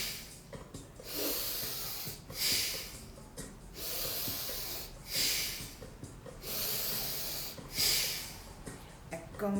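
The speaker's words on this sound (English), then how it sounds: "Inhale, exhale. Inhale, exhale." Slow, audible breaths in and out during meditation, each long airy exhale or inhale lasting about a second and repeating in a steady cycle roughly every two to three seconds, close and hushed, with no talking.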